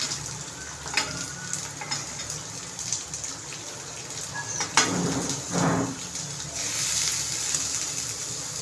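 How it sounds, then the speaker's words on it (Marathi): Onions for matki bhaji fry in a pan over a medium flame, giving a continuous sizzle with scattered crackles and brief stirring scrapes, close and moderately loud, with no voices. "ते थोडं ब्राऊन झाल्यावरती आपण आता कांदा टाकणार आहोत."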